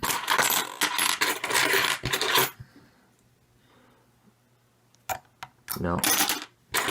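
Keys clunking and jangling as they are tried in locks, in loud bursts of metallic clatter with a quiet gap in the middle before more rattling returns.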